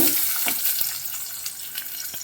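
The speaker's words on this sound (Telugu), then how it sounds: "ఎర్రగడ్డలు ఎర్రగా వేగినాయి" Onions and garlic frying in oil for a tamarind-leaf dal, a continuous crackling sizzle close by with light stirring taps scattered through it.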